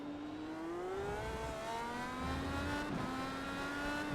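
A race car in a racing video game takes the final corners at Spa, its engine revving up and down through gear changes, close and loud without pause.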